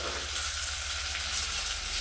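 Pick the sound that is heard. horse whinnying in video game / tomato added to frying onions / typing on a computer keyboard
tomato added to frying onions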